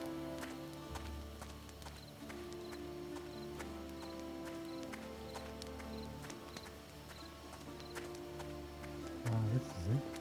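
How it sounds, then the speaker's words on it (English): Wild horses gallop in the video game Pax Romana, a soft rhythmic hoof patter running beneath sustained game music and ambient drone, with a faint whinny-like flourish near the end. "Wild horses."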